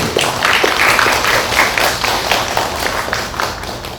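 An audience at a Korean book talk and essay reading applauds warmly, a dense, sustained patter of clapping that tapers slightly toward the end.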